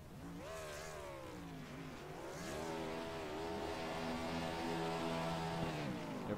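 Several cars in a sim racing game rev their engines hard while doing burnouts, a dense layered roar of rising and holding engine tones that stays loud and continuous throughout.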